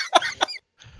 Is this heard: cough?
yes